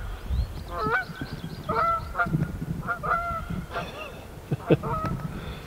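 Geese honk repeatedly in the morning over a backyard garden with sweet corn and beans, several calls overlapping at moderate distance against a low outdoor rumble.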